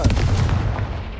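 A Confringo fire spell explodes in Hogwarts Legacy, a loud deep booming blast with heavy low rumble that rolls off and fades within about a second.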